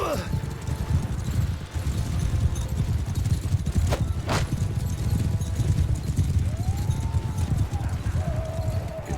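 Horses gallop in Mount & Blade II: Bannerlord, hooves clattering rapidly in a rumbling gallop, with a horse's whinny and a few sharp impacts rising over the thundering mix.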